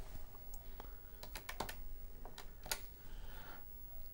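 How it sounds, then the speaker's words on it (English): Fingers tap out a short command on the keyboard of a TRS-80 MC-10 home computer, a sparse run of light, close key clicks with small gaps between them and no talking. "Type in C-load"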